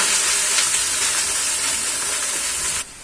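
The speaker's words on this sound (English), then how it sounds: "I'm going to add the Ndumas and stir them in" Ndumas (arrowroot) stirred into a goat meat stew in a hot pan, making a loud, continuous sizzling hiss with scraping stir movements that cuts off abruptly near the end.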